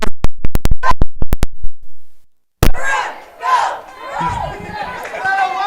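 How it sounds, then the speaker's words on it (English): Crowd at a high school football game between Lutheran and Scecina: a few sharp claps or bangs, a brief silence, then a loud burst of yelling and cheering mixed with voices. "Big crowd here for Lutheran this evening"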